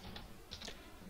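A few quick keystrokes tap on a computer keyboard, soft, close clicks in a short burst over a faint background hiss.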